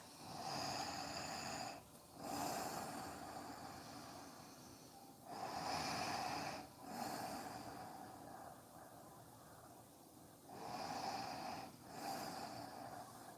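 Slow, deep breathing during a yoga forward bend, with three long inhale-exhale cycles, close and fairly quiet, and soft airy snorting edges on each breath.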